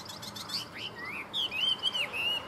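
A Chinese hwamei songbird sings in a varied run of bright chirps and rising, sliding whistles, close and fairly clear over a quiet background with no talking.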